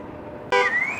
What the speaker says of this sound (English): that car had a whistle, or the alarm had a whistle